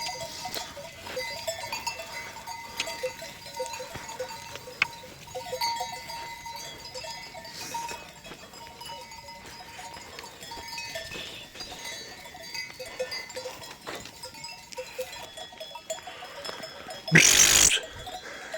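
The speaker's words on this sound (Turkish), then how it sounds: "Bak ah, koyunlar aşağı aşağı gidiyor." A flock of sheep moves downhill with bells jingling faintly and irregularly over a quiet outdoor background, with a loud burst of noise near the end.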